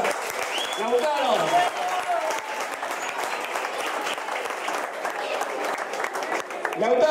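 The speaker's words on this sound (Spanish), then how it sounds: "un aplauso ahí para Lautaro." Sustained audience applause at an 18th birthday party, steady clapping from a room of guests lasting throughout, with some voices mixed into the crowd noise.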